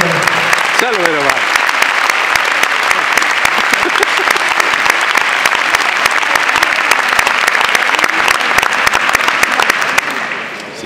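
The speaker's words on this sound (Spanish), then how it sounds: "Un aplauso para todos." Dense, sustained audience applause fills the hall as members of a youth choir from Bilbao file onto the stage, steady and loud before thinning at the very end; a voice speaks briefly near the start.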